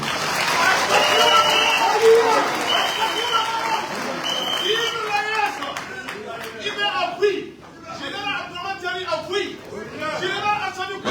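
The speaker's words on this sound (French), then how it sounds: "Plus vos applaudissements et les féliciter une fois de plus." Audience applause at an official installation ceremony for a national commission of the Confederation of Sahel States, clapping mixed with crowd chatter and talking voices, fairly loud.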